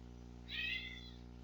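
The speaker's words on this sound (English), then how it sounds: "My cats are making noise over there." Pet cats meowing in another room, one short, faint meow rising over a steady low electrical hum in a quiet indoor space.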